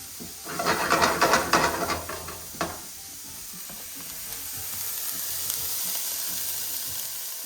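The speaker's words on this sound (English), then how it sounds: "Ooh, I love the sizzle. I'm just gonna give this a good stir. And we're gonna let this saute for a few minutes." Vegetables sautéing for a Mexican street corn dip sizzle in a pan, with a burst of loud spoon stirring and scraping early on, then a quieter, steady hiss of frying that continues alone.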